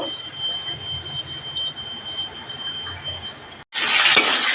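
Potato, onion, tomato and green chilli fry lightly with kalonji in a pan, a soft steady sizzle with faint stirring, then a sudden loud burst of hissing near the end.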